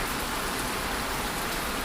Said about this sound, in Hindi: इतनी बारिश में छुपे हुए बैठे हैं कुछ लोग